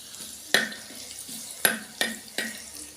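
Shallots and mustard seeds fry in a hot pan over a strong flame, with a soft steady sizzle broken by four sharp scraping stirs of a spoon against the pan, close by.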